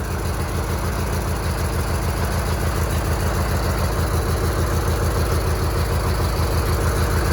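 A 1985 Roper lawn tractor engine runs steadily at high RPM, a loud, continuous droning hum with a constant low pulsing throughout and no talk.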